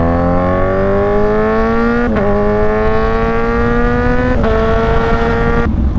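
A loud, steady engine howls close by, rising in pitch through quick clean gear changes with short dips at each shift, sustained without a clear fade; most likely a passing car, though a motorcycle pulling through its gears cannot be ruled out.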